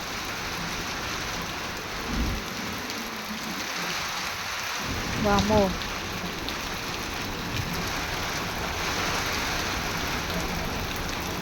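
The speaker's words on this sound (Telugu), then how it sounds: "ఈడ్చి కొడుతుంది వర్షం అయితే." Heavy rain pours down steadily outdoors near fields and trees during a sudden downpour, a dense even hiss throughout with a brief exclaiming voice midway.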